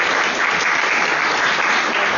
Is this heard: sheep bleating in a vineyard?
no